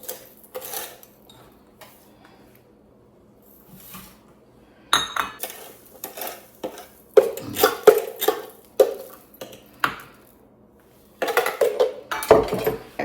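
Brown sugar being added to melted butter in a pot for homemade caramel popcorn, heard as scattered clinks and scrapes of utensils against cookware in irregular bursts between quiet gaps, close up and without talk.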